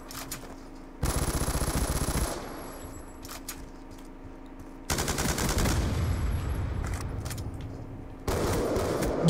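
Automatic gunfire in Black Ops 2 multiplayer Gun Game comes in three loud sustained bursts, separated by quieter stretches of game ambience with a few isolated shots, the last burst starting just before the end.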